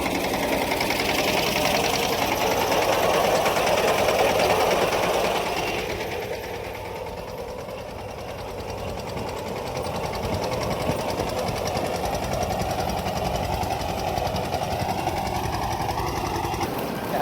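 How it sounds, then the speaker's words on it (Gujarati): A tractor sows sorghum in a farm field, its engine holding a steady, buzzing mechanical drone that dips briefly in the middle before settling back to a constant hum. "બાકીની ટ્રેક્ટરમાં વવાય છે"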